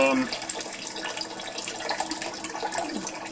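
Tap water runs steadily into a sink while a dish is scrubbed with soap and a sponge, a continuous close splashing wash with some clatter.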